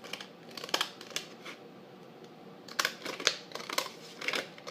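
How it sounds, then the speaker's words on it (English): Scissors snip through paper labels in short, crisp cuts, some quick pairs and others spaced out, quiet and close, with light paper rustling between the strokes and no talking. "And then I just cut them out individually like so"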